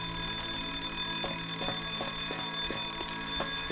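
An alarm bell rings steadily in the video game Silent Storm, a continuous metallic clangor with repeated strikes, loud and unbroken throughout with no voices.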